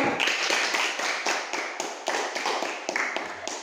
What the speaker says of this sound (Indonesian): beri tepuk tangan kepada temannya